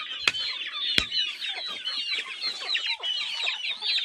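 Chickens cluck and chatter steadily in a country chicken coop built from bamboo and neem, porasu and palai wood sticks, with two sharp knocks near the start and no one speaking.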